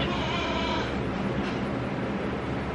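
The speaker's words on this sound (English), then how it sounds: "my goat that had bloat" A goat with bloat bleats in a farm herd setting, one drawn-out cry early on over steady broadband noise, fairly close and alone with no talk.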